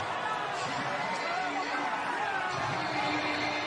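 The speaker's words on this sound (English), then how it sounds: "Crowd's letting you know." A large baseball stadium crowd at a Philadelphia Phillies home postseason game fills the air with a dense, steady roar of cheering and murmuring, with a voice talking over it.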